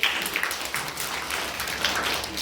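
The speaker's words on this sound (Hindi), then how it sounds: "ताली बजाएं आप लोग" An audience claps at a school event, a dense, steady patter of many hands that holds evenly throughout with no clear peaks or pauses.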